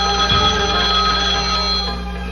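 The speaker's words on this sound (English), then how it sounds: "And it starts with our first phone call" A telephone ringing on a TV game show set, a loud, steady electronic ringtone trilling continuously for about two seconds, the bright tone fading slightly near the end, with no talking over it.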